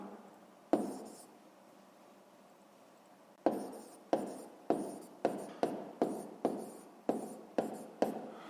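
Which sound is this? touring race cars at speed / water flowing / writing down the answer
writing down the answer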